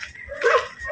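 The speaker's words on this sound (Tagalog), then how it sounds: "Ay, may aso." A single dog gives a short, sharp bark or yip outdoors near a street in Daet, Camarines Norte. The sound is brief and moderately close against quiet background noise.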